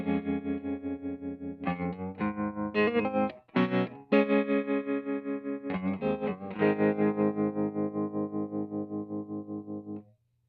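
An electric guitar through a Tortuga Effects Galapagos tremolo pedal plays sustained chords with a steady, pulsing tremolo that rises and falls in volume throughout.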